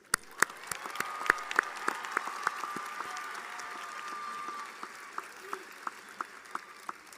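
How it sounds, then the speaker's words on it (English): An audience at a commencement ceremony applauds the graduates, a dense spread of many clapping hands heard from a distance, with some louder nearby claps, swelling then gradually thinning out over several seconds. "join me in giving a round of applause to the graduates"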